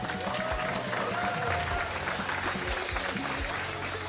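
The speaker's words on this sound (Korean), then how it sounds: "다시 한번 1위 주인공 이재선 선수에게 뜨거운 박수 부탁드립니다" A live StarCraft II tournament crowd at the GSL claps for first-place player Lee Jae-sun. The steady, moderately distant applause runs throughout, and a low voice and some room noise sit beneath it.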